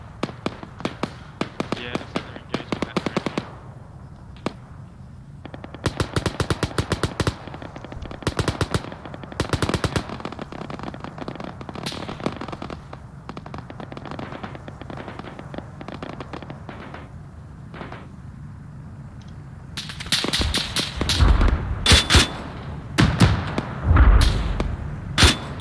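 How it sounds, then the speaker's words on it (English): Rapid machine-gun bursts and scattered single shots crack out in a military video game set in Grenada, with a USMC grenadier, some bursts loud and close, others more distant, and heavy thuds toward the end. "What are they shooting at now?"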